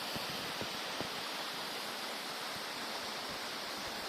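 Steady, close roar of cascading water at Laza waterfall in Qusar, a dense hiss with faint splashes and no speech.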